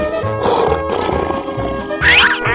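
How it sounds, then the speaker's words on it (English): A lion lets out rough, growling roars in several surges, loud and near, layered over a steady musical backing and ending in a harsher snarl. "Lion."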